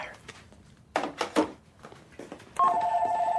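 Speakerphone tones from a telephone in a film scene sound after a few short bumps and fragments of speech, ending with a steady electronic beep held close and clear.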